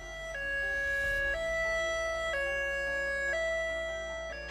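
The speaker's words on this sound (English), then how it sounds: "staff to actually be out driving in the areas with a high-low siren" A two-tone high-low evacuation siren from a vehicle driving through the area alternates high and low notes in a steady, even cycle, loud and continuous with no other sounds.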